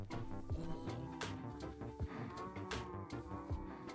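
Cows moo over and over in the Minecraft video game, a small cow family low in the mix beneath steady background music, with no voices.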